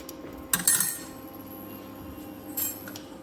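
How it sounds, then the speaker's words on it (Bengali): A metal pan clanks down onto a stove, followed by a lighter metallic knock a couple of seconds later, with steady background hum. "এবার আমি একটা প্যান বসালাম।"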